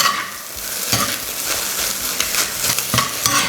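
Cold leftover rice being stir-fried for egg fried rice, a steady sizzle with repeated scraping and tossing strokes of the spatula against the pan, close and fairly loud, with no voices.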